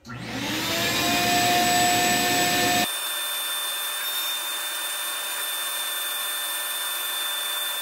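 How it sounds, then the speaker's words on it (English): A vacuum cleaner whines loudly at close range during guitar body machining, then its motor note drops and steadies into a sustained lower hum for the rest of the clip. "Vacuum up a bit."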